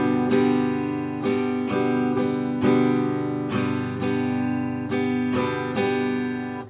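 Acoustic guitar strummed in a down-down-up-down-up pattern played twice through, crisp chord strikes in an even rhythm ringing out clearly and close, with no talking.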